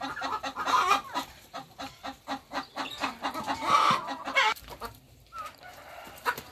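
A hen clucks repeatedly inside a backyard chicken coop, with a busy, rhythmic run of clucks and one or two louder calls, close to the microphone and with no talk over it.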